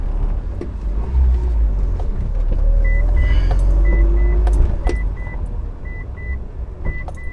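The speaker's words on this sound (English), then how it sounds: "I'm gonna go for a quick little test drive here." A Mitsubishi Evo 8 car pulls out on a test drive with a loud, close, deep engine rumble, a faint repeating electronic beep and scattered clicks.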